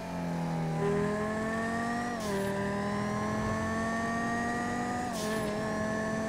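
A car driven in Grand Theft Auto V drones steadily at close range, its engine pitch climbing through gear shifts and dropping with two brief breaks, with no talk over it.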